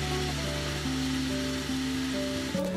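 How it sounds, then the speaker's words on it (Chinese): Steam-fried pork buns crisp in the bottom of a covered pan over medium-high heat, giving a faint, steady sizzle and hiss with thin tonal whines and no voices. "听到锅底发出滋滋的声音"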